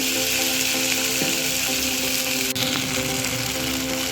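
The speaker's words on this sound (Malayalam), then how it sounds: "ചൂടായ പാനിലേക്ക് 1 ടീസ്പൂൺ അളവിൽ നെയ്യ് ചേർത്ത് കൊടുക്കാം. ഇനി ഇതിലേക്ക് അരിഞ്ഞു വെച്ചിരിക്കുന്ന ചക്കപ്പഴമാണ് ചേർത്ത് കൊടുക്കുന്നത്." Chopped ripe jackfruit sizzles in hot ghee in a pan, a steady, dense frying hiss running throughout with a few faint clicks and taps.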